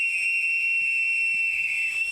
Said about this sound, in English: Hey Johnny, that idea of your whistle blast might be a go, eh?